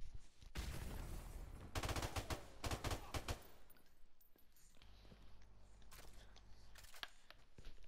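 Gunfire from an M40 sniper rifle in Call of Duty: Modern Warfare Remastered, a run of loud sharp shots in quick bursts with quieter gaps and faint rustling between, with no voices.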